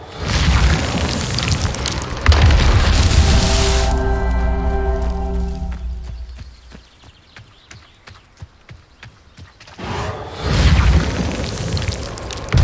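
In Hogwarts Legacy, a Confringo spell fires with a heavy booming blast that rumbles and fades into tonal ringing, followed by quiet clicks and a second burst of rumble, loud and near.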